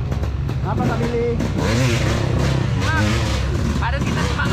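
An enduro motorcycle revving hard on a rough riverbed trail strewn with large boulders, its engine droning and rising in pitch under steady loud talking.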